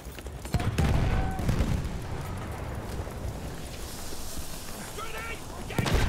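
Gunfire in the Battlefield 1 video game on an oil-field operation map: sharp shots and bursts, some close and loud, under a rumbling battlefield din, with a player talking over the action.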